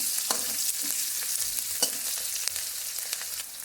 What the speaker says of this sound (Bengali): সর্ষেটা আমি একটু ভাজার পরেই রসুনটা দিয়ে দিলাম। এবার এইভাবে ভালো করে একটু ভেজে নিতে হবে।